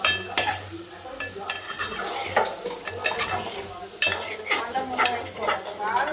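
Chicken curry frying in oil in a pot is stirred with a spoon, giving a steady close sizzle broken by scraping strokes and light clanks of metal against the pan.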